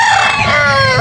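A rooster crows close by in a Cebu cockfighting setting, one loud, shrill, drawn-out call with harsh harmonics that fills the whole moment.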